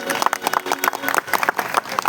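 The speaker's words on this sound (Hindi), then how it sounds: "एक बार जोरदार तालियों से उनका स्वागत करिए" An audience at an Uttarakhand foundation day cultural function gives the chief guest a short, lively round of applause, with many overlapping claps close and loud and no voices.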